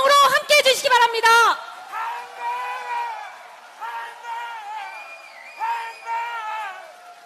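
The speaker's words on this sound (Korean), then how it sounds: "당원 동지 여러분, 뜨거운 박수 함성으로 함께 해주시기 바랍니다" Party members at a People Power Party New Year gathering in South Chungcheong shout and whoop together in a loud, brief burst. A single amplified voice then speaks over a hall that has quieted.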